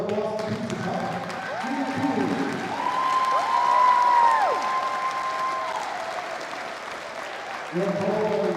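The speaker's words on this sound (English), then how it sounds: "Let's all give a big round of applause to the silver medalists of the 2024 Alberta Boston Pizza Cup" Applause from the arena crowd for the silver medalists at the 2024 Alberta Boston Pizza Cup curling final, a soft continuous wash of clapping under sustained tonal music or organ-like notes.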